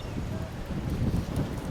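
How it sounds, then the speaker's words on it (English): Strong wind gusting at the coast in Kinross near Perth, Western Australia, a loud continuous rushing buffet on the microphone that fills the short moment. "that wind is strong"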